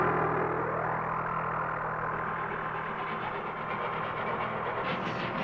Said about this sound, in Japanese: すごい列車。